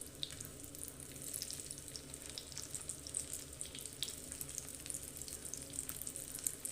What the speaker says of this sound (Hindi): तो इसी तरह हम इनको फ्राई कर लेते हैं